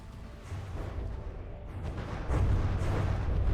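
A missile barrage fired from the Nest of Bees craft in From the Depths makes a dense, continuous rumble of launches and blasts that swells louder partway through and keeps roaring to the end.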